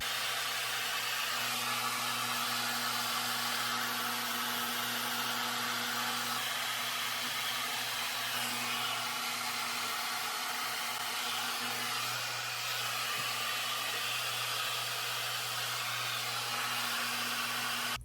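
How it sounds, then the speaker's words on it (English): A hair dryer blows steadily and loudly throughout, a constant airy roar with a low motor hum and no pauses. "run the hair dryer around my hair"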